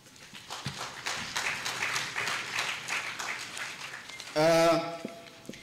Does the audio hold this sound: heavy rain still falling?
no